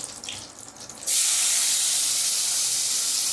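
Chopped onion and tomato hit hot oil already seasoned with bay leaf and dried red chilli for ghugni. After a quieter second, a sudden loud sizzle erupts and keeps hissing steadily.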